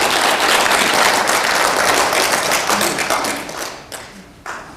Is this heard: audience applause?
yes